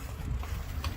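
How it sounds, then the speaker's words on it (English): Wind roars steadily across the microphone while cycling into a headwind near Zeeburg, Amsterdam, a constant low buffeting rumble with gusty swells and no talk. "heading into the wind as you guys can hear"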